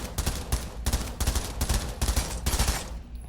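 Submachine gun in the VR shooter Pavlov VR fires five rapid automatic bursts in a steady rhythm, loud and close, with no voices, before trailing off into quiet.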